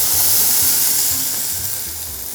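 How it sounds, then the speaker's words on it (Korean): Dried pollock and radish stir-frying in a pot, a continuous close sizzle and hiss with faint scraping of stirring underneath. "무하고 북어는 형식적으로 볶는 거예요"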